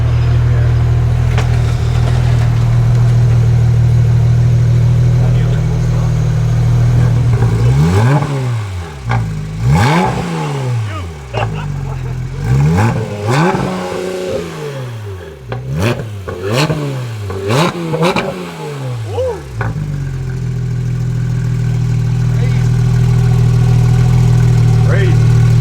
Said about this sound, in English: Dang, that thing is loud. Wake the whole neighborhood up.